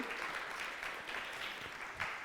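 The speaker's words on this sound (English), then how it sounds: "let's give them some applause" An audience claps for the staff at a talk, a faint, soft patter of applause heard from a distance.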